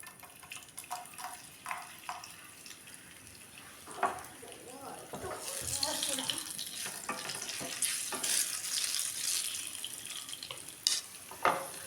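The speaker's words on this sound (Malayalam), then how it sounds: "ഈ ചൂടായ എണ്ണയ്ക്ക് നമുക്ക് ഈ മുന്തിരി ഇട്ട് കൊടുക്കട്ടോ." Raisins dropped into hot oil for biryani crackle and sizzle in a pan, a fizzing hiss that swells midway and stays busy with small pops and stirring clinks, fairly close, with scattered kitchen noises around it.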